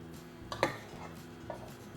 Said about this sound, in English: So just take a knife and go around and it'll loosen it up a little bit